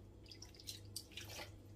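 Water dripping and trickling softly while freshly washed knitted yarn is rinsed, a faint, irregular patter of drops heard alone at close range.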